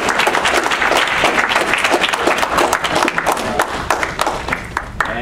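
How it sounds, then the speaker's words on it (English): An audience applauds at the end of a talk on microbial fuel cells with loud, dense clapping that continues for the whole clip and thins slightly near the end. "let's give her a hand of applause for coming all the way out here"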